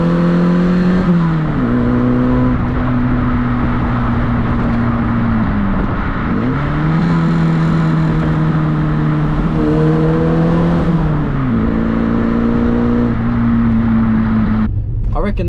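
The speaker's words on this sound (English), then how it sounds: "see how much noise we can make in this car park then" A 1989 Ford Fiesta Mk2 revving in a car park, its engine rising and falling through several sustained rev holds over about fifteen seconds, loud and close, with a voice heard over it.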